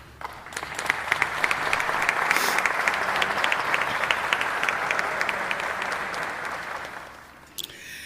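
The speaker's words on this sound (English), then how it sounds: "please give our sponsors a round of applause" Gala audience at a charity fundraising dinner applauding the event sponsors: sustained, dense clapping from a large crowd that swells, holds steady for several seconds, then tapers off near the end.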